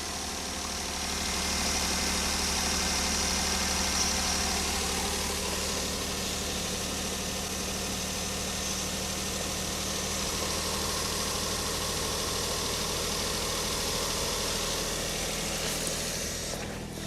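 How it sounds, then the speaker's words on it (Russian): The three-cylinder engine of a 2009 Daihatsu Hijet Cargo 4WD kei van idles steadily with a low, even hum and light vibration, heard close and alone for the whole stretch. "Вот так вот мотор работает."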